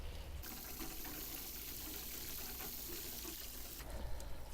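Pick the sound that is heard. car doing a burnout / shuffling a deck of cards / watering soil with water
watering soil with water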